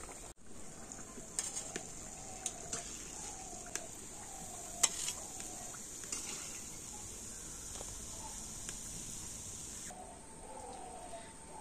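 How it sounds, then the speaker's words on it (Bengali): Pitha rice cakes fry in oil with a faint, steady hiss and sizzle, dotted with small repeated crackles and light clicks, quiet and without talk. "আর এই একইভাবে বাকি পিঠেগুলো ভেজে নেব।"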